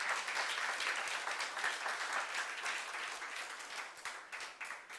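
Sustained applause from a church congregation during a youth service sermon, a dense, steady wash of many hands clapping that fades slightly toward the end.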